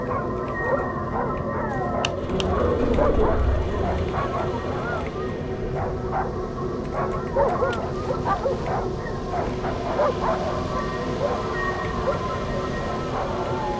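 Dog barks, howls and whimpers in the horror game Darkwood, scattered yelps over a dense droning ambient bed, with a louder rumbling swell in the first few seconds.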